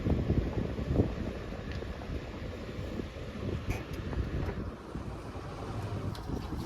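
Steady wind blowing across a moored boat at a pier, a broad continuous rushing with gusty swells and no voices.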